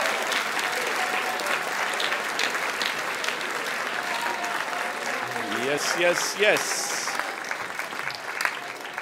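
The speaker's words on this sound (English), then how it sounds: "Give them a round of applause." At a school band banquet, the audience claps steadily for the standing jazz ensemble, with a voice shouting and others calling out over the continuous applause.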